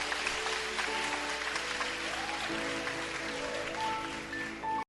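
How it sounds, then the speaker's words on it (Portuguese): Congregation applause during a church service, a steady wash of clapping that holds at an even level for several seconds and fades out at the end, with faint tonal sounds from the room beneath it. "Dá uma salva de palmas para a palavra de Deus."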